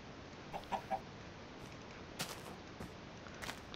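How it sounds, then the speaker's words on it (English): A Minecraft chicken gives a few short, soft clucks early on, followed by scattered faint clicks and taps in a quiet game scene. "And hello, chicken."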